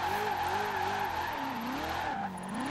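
A Maserati drifts in the racing game Forza Horizon 4, its tires squealing in long, wavering howls over a steady engine drone. The sound stays loud and continuous throughout, with no talking.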